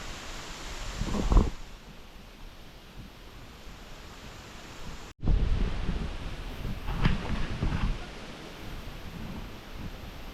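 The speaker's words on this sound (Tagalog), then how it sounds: "lakas pa rin po ng hangin" Strong wind from Typhoon Uwan roars steadily around a hut with gusty rushes and rustling, a brief cut midway, then the blustery noise continues, loud and close.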